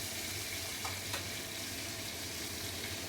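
Fish coated in salt, turmeric and red chilli powder fries in oil in a kadai, giving a dense, close sizzle that runs steadily throughout, with a couple of brief clinks and no talk.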